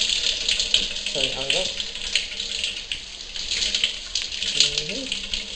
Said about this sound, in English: Yep, we've got hot water.